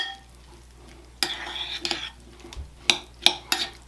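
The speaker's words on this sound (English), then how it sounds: "we are just going to stir this together" Olive oil and balsamic vinegar with basil stirred together in a bowl, a utensil clinking and scraping in irregular bursts after a quiet start, close by.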